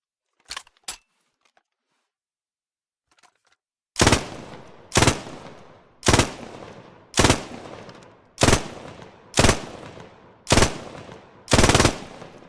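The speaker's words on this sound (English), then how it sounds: "Germany's MG42 fired the same rifle cartridge as a bolt action, but was designed from the ground up to do so automatically." A German MG42 light machine gun fires about eight loud, sharp bursts in an even, roughly once-per-second rhythm after a few faint clicks and near-silence.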